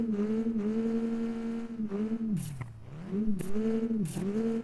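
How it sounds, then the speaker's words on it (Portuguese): Engine roar of a Mitsubishi Eclipse in Car Parking Multiplayer, a steady droning tone that dips and swells as the revs change, with a few sharp scraping bursts, heard under a voice. "Tá insano o ronco desse carro"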